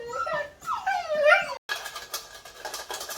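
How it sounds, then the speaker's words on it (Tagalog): A new puppy and other dogs at a Filipino home whimper and whine in high, wavering cries close by, followed by softer yips and scuffling noise in the second half. "May bago kaming tuta"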